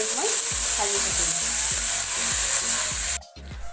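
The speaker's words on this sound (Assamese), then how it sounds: "আৰু এতিয়া এইখিনি মই ভাজি থাকিম।" Greens (shak) sizzle loudly in hot oil in a pan, with a bright constant frying hiss and repeated rhythmic scrapes and knocks of stirring, close up with no talk.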